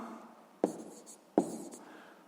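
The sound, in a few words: writing down the answer by hand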